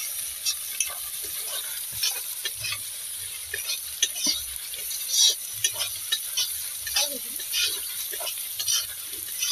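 Onions frying in a wok at an outdoor picnic, a thin continuous sizzle with scattered stirring scrapes and clicks, fairly quiet amid open-air ambience.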